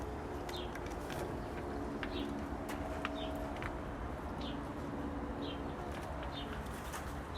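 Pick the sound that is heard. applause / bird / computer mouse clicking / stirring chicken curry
bird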